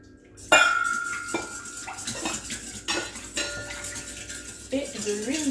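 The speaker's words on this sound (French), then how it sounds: "on mélange déjà tout ce qui est liquide" Whisking eggs, milk and olive oil together in a bowl, with clinking utensil taps and scraping against the bowl in quick irregular strokes, close and moderately loud.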